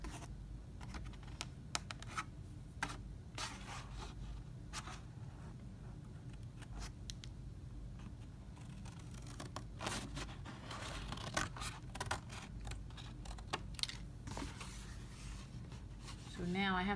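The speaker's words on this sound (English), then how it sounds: "Notice I'm cutting from both sides." Scissors snipping through a painted paper shape, soft scattered scraping and cutting sounds, faint and close, with a person talking intermittently over them.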